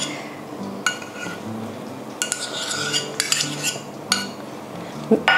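Salad vegetables being mixed with mayonnaise in a bowl, a spoon scraping and clinking against the sides in irregular strokes, close and fairly clear, with no talking.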